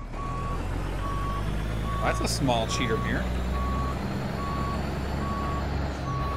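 A truck backing up to couple with a trailer in the American Truck Simulator video game sounds a steady run of evenly spaced reversing beeps under low engine rumble, while someone talks over part of it.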